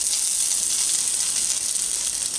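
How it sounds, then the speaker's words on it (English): Pulled pork hits a hot oiled pan and sizzles loudly, a dense, steady hiss that holds at an even level throughout the short stretch. "Pan's nice and hot with that oil, just throw the pork in."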